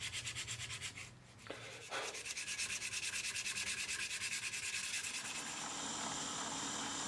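Steady back-and-forth rasping of a file on metal expansion links, continuous strokes with a brief pause early on, close and fairly loud.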